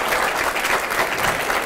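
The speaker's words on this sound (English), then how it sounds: "giving a big round of applause to Christina" An audience at a talk gives a big round of applause, dense, steady clapping from many hands filling the room at a constant level, with no voices.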